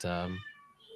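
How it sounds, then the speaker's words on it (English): A pet cat gives a single clear, close meow lasting under half a second, its tone fading into quiet room noise. "if you can hear our gremlin cat in the background"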